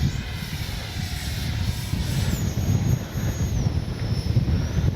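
An Arrows 50mm EDF BAE Hawk RC jet is launched by hand and flies off, its fan whining steadily under heavy wind buffeting, with a thin high tone that slides down in pitch as the jet moves away.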